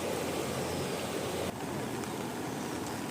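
Floodwater of the Agasti river near Ravande village, swollen after heavy overnight rain and spilling across a road, rushes in a continuous broadband roar, steady and fairly distant, with no voices.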